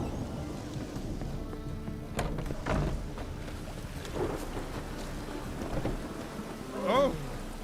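A rainy thunderstorm in the Witcher video game, with steady rain noise, a few low rumbles of thunder and a brief sharper sound near the end, heard alone at moderate level.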